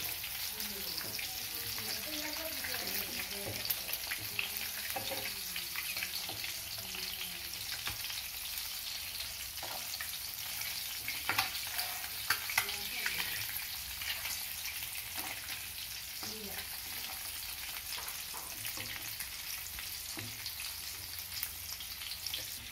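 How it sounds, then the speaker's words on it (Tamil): Eggs fry in a pan for an egg pepper fry, cooked on both sides, giving a steady close crackling sizzle throughout with scattered louder pops and a faint murmur underneath. "இதே மாதிரி ரெண்டு பக்கமும் முட்டையை பொரிச்சு எடுத்துக்கலாம்"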